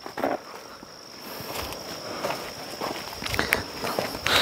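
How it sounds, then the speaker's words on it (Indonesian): Footsteps walk into a forest, with steady crunching steps on the forest floor over a constant high insect or cricket drone, fairly close and continuous throughout. "Kita masuk ke hutan ya guys ya, ke tempatnya sarangnya Ki Suryo Menggolo."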